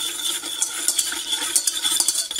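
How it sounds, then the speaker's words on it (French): Sugar and water being whisked together in a saucepan to make a syrup, a busy metallic scraping and light clinking of the whisk against the pan, steady and close with no talk. "et je vais venir fouetter l'ensemble."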